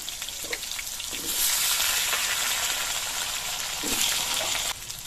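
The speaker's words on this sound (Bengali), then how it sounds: "এবার আলুগুলো কিছুক্ষণ ভেজে নিতে হবে।" Potatoes fry in hot oil with cumin in a wok, giving a steady, close sizzle that swells louder through the middle and eases near the end, with no talking.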